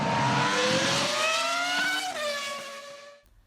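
A 2002 Ferrari racing car engine screams at very high revs, a loud sustained wail climbing steadily in pitch with sharp harmonics, then easing off and cutting out abruptly near the end.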